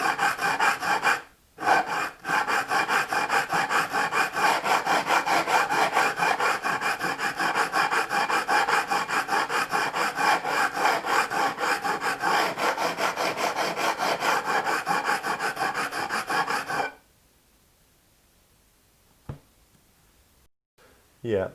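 Diamond stone of 150 grit filing stainless steel guitar frets, a steady, close, rasping scrape that runs without a break for about seventeen seconds before stopping, followed by quiet with a couple of faint knocks.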